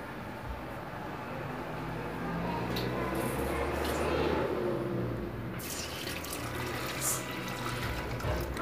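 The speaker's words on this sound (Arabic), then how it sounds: "غادي نديرو الماء هنا في الغلايه" Tap water streams into an electric kettle in a steady, close, rushing pour that lasts throughout, with a few light clinks near the end.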